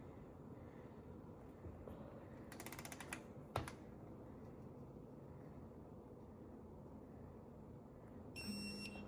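A digital torque wrench emits a short high electronic beep near the end as the target torque is reached while tightening the oil drain plug on a 2018-2025 VW Atlas. Earlier there are faint clicks and ratcheting over a quiet garage background.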